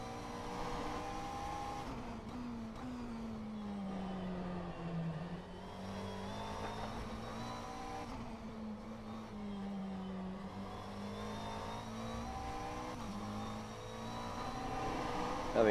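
McLaren 720S GT3 race car engine on the Sebring circuit in rFactor 2, a steady droning engine note rising and falling with revs and gear changes throughout, fairly even in level with no talk.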